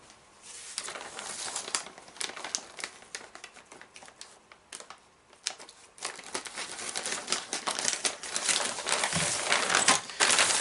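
Close, irregular crinkling and rustling as plastic bags of spare parts for an Axial SMT10 Grave Digger RC monster truck are handled and torn open, with small clicks and taps, growing busier toward the end.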